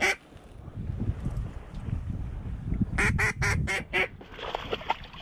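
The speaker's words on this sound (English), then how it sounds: "There's a bunch of duck." A flock of ducks quacks in a quick run of five loud, close calls after a stretch of low rumbling wind noise, with more faint quacking trailing off on a California grassland duck hunt.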